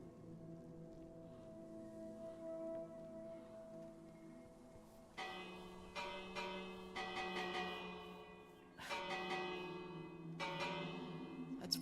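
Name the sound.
bell used as a doorbell in a Minecraft server (video game)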